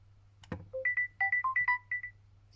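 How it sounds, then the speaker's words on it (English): A Samsung Galaxy S22 plays its Asteroids ringtone: a short thump, then a quick run of about ten bright electronic beeps at varied pitches, close and clean over quiet background hum, with no speech. "We can also change a ringtone for this specific group."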